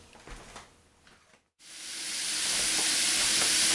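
Italian sausage frying in canola oil is stirred and broken up in a pan, a quiet scraping bustle that cuts out briefly and then returns as a loud, steady, close hiss of sizzling.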